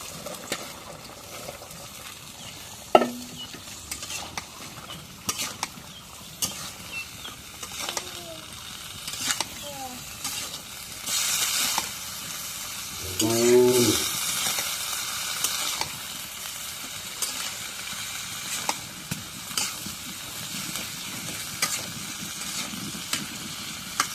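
Shati fish with pointed gourd and potatoes fries and is stirred in a pan, giving a soft ongoing sizzle broken by scraping stirs and clinks, with brief voices in the background now and then.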